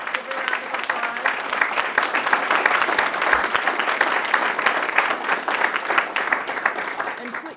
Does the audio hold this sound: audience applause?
yes